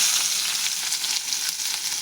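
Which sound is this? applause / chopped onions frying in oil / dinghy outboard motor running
chopped onions frying in oil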